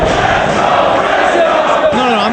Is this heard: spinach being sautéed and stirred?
no